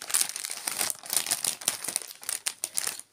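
Plastic packaging of craft cards crinkling and rustling as it is opened by hand, close and fairly quiet, with irregular bursts of crackle and no talking.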